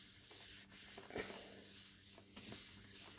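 Rubbing across a handmade craft tag to clean it, a soft continuous scrubbing hiss with slight strokes and pauses, close and quiet with no talk.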